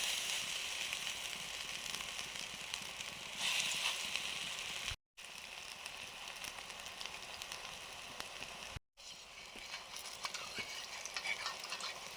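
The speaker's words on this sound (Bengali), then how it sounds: "বড়া ভাজা শুরু করেছি কড়াটা বেশ গরম হয়ে গেছে" Shrimp and lentil fritters fry in a hot wok with a soft, steady hiss and light crackle, faint and even, broken by two brief silent gaps.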